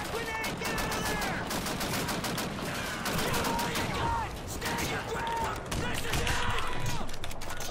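Rapid gunfire in Call of Duty 2, a WWII battle defending Pointe du Hoc: dense, continuous bursts of automatic weapons and scattered shots fill the clip, with voices shouting beneath the barrage.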